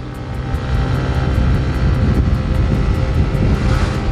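A Honda PCX 160 scooter engine climbing a hill under opened throttle, a loud steady drone that swells slightly and holds constant, heard close with no talk.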